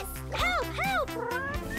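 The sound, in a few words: cat meowing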